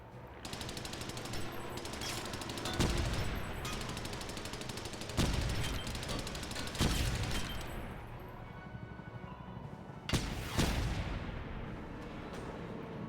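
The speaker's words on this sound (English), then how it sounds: "Welcome to the shooting range" Rapid automatic gunfire at a video game shooting range, long rattling bursts punctuated by several heavy booming shots, loud and close.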